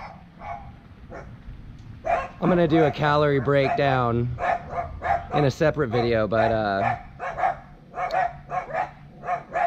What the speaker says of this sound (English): as you can tell, the dogs are excited I'm home.